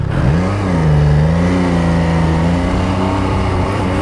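MV Agusta Brutale 800 motorcycle engine revving hard and accelerating, a loud, sustained up-sweeping roar that holds high and steady for several seconds, close up.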